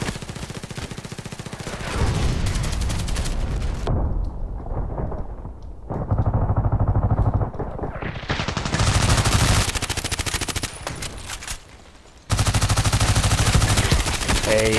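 Rapid automatic gunfire in the shooter game Contract Wars, loud and sustained bursts of rattling shots with brief lulls between volleys, close and dense with no talking.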